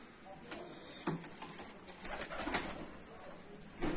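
A blue Mardin pigeon coos close by in a snowy setting, soft repeated calls over faint background noise and a few scattered clicks.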